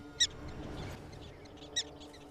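Two sharp, high-pitched prairie dog alarm calls ring out about a second and a half apart over a quiet outdoor background.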